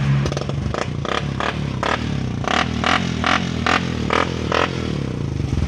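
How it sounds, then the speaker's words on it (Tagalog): Motorcycle engine idling steadily during a charging-system check at a repair shop, with repeated metallic clatter and scraping bursts over the low running drone, close and fairly loud, no talking. "umaandar yung makina ni boss"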